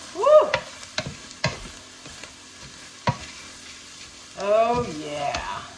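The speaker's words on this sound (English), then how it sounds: "Mix that in there till the onion looks like it's slightly translucent." Onions fry in a gumbo roux with a soft sizzle, and a spoon scrapes and clacks in a few separate strokes. Someone speaks briefly near the start and again near the end.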